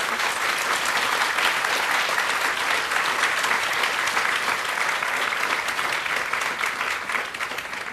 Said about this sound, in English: I'd like to ask for a round of applause for our panelists.